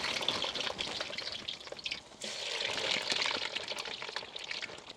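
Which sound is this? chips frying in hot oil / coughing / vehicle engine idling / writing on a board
chips frying in hot oil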